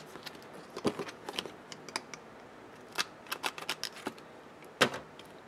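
Sharp clicks and snaps from a 1/4 inch corner punch biting through laminated pocket-folder edges, a string of separate close, crisp hits spread unevenly, with a louder one near the end.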